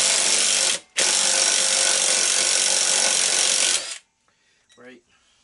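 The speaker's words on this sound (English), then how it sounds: "You got to go hammer gun." A loud, steady mechanical whir of an impact wrench removing a nut on a 1985 Honda ATC200S runs for several seconds with one brief pause, then stops, leaving faint clicks and a short squeak.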